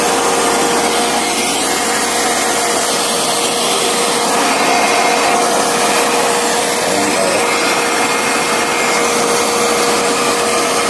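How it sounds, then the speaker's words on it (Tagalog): A hair dryer runs continuously on a 4.2 kW off-grid solar power setup, giving a loud, steady, close-up whooshing blow with a faint constant hum that never changes pitch or level. "So malakas din pala to, yung hair dryer."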